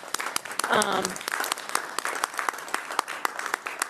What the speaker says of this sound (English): So if we could just hit round of applause for those two.